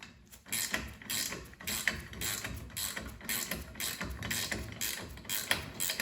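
Hand ratchet tightening bolts on a snowplow headlight riser spacer kit, giving a rapid, close run of clicking pawl ratchets in repeated back-and-forth strokes, loud and steady with no talk.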